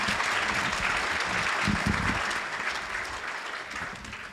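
Workshop audience applauding a group after an activity, a steady, dense wash of clapping from many hands that holds for several seconds and eases slightly toward the end.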